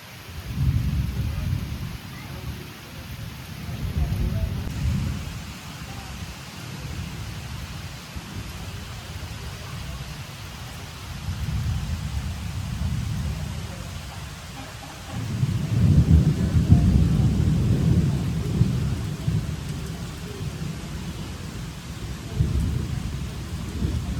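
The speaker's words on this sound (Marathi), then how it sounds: "जोरात पाऊस येतोय" Heavy rain pours steadily in a Konkan village while deep rolls of thunder rumble in waves, growing louder midway and continuing without voices.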